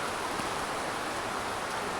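Steady outdoor rain falling beside a canal, a continuous dense broadband hiss with no breaks, fairly close and even in level throughout.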